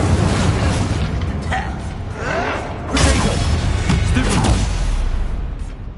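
The Incendio fire spell cast in the Hogwarts Legacy video game: a loud roaring whoosh of flame with heavy booming bursts and crackle, swelling again midway with a faint voice beneath.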